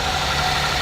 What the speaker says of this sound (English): the engine is still running just as it was normally